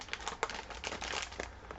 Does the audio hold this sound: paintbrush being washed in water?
no